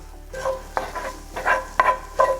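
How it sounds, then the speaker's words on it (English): Shakshuka sizzles in a pan while being given a final stir, with five or so distinct scraping strokes over a close, steady fry. "now that that's gotten to know each other very well, we give it one last stir."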